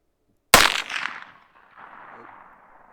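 One loud, sharp gunshot from a scoped Heritage Rancher rifle cracks out at a target range, followed by a fading echo that rolls away over the next couple of seconds.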